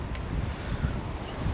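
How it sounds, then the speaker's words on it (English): Steady, loud wind buffets the microphone at an open shelter on Barry Island, a continuous low rumble with gusts and no voices. "a bit windy up here"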